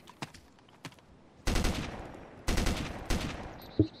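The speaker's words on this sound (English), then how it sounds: "with my last bullet too. That was hip fire. 42 meters. M14, nice." M14 rifle fired from the hip in DayZ Epoch: a couple of sharp distant shots, then three loud close cracks spaced about a second apart, each trailing into a decaying echo.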